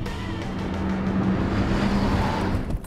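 A Nissan 300ZX twin turbo sports car accelerating hard into a drift, its engine roaring loud and close with a steady rising drone and faint tire scrub throughout.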